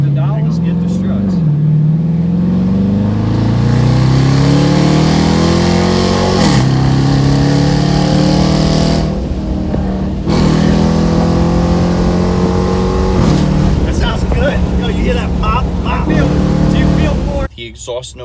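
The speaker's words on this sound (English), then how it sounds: "The exhaust notes were very similar." A Dodge Charger Daytona and a Charger R/T exhaust, one with a mid-muffler delete, rev with rising and falling pitch sweeps in a loud, continuous engine drone that cuts off near the end.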